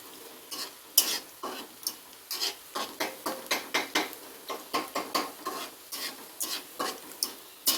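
Ludus is frying in a pan at home with steady, rhythmic stirring. Scraping strokes come about twice a second over a soft, constant sizzle, close and moderately loud, with no voices.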